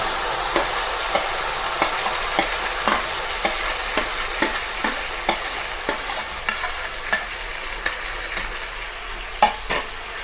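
A ground onion-tomato green masala paste fries in a pan for egg curry, a steady close sizzle punctuated by regular spoon scrapes and taps roughly every half second while it is stirred, without any speech.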